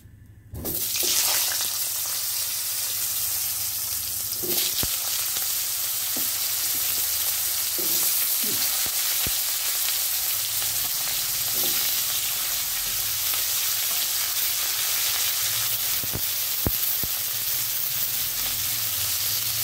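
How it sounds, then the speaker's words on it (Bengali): Potato pieces fry in hot oil in a kadai with a loud, continuous sizzle, broken now and then by faint clinks and stirring scrapes. "এবার আলুগুলো ভেজে নেব।"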